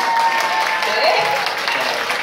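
An audience at a lecture in a public hall claps together in a short burst of steady, fairly loud applause while a voice speaks over it.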